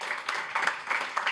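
An audience applauds steadily as people are introduced one by one at a French event about neighbourhood youth running AI projects, a continuous patter of many hands filling the room.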